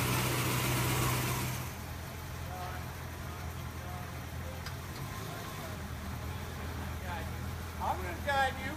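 A 1966 Ford Mustang convertible engine runs at a steady low idle, loud and close at first, then settling into a quieter continuous rumble with faint background noise.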